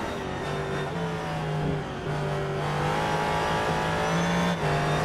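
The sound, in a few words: rally car cornering onto back straight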